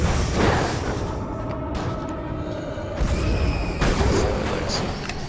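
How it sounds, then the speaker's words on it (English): Flashbang grenades detonating in the video game Alan Wake, with several dull booms and bangs spaced across the clip under a dense background of game noise. "Just throw flashbang."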